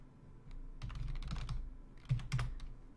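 Keys clatter on a computer keyboard during batch-file coding, a quiet close run of quick taps with a couple of firmer keystrokes near the end, alone without talk.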